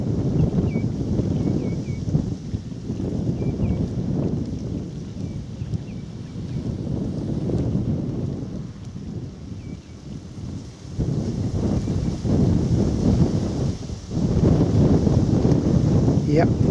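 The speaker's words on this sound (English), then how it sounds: "wind's picking up, rain is a-coming." Strong, gusty wind buffets the microphone outdoors at an RSPB reserve near Higham and Gravesend, a steady low roar that swells and eases in waves across the whole stretch.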